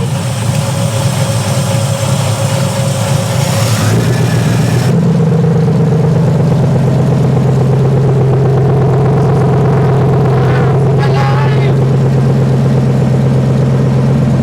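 A car engine runs loud and steady after a cold start with the choke on, a strong low drone that surges briefly, then settles into an even idle with no talking.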